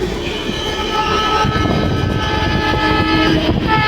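Howrah–Rourkela Vande Bharat Express train passing close by, a loud steady roar of wheels on rails with a sustained horn tone and some wheel squeal over it.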